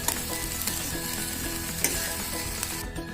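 Tomato paste sizzles loudly in a hot pan while being sautéed and stirred for anda bhurji, Indian street-style scrambled eggs, a steady dense frying hiss with occasional scrapes of a spoon, close up and with no voices.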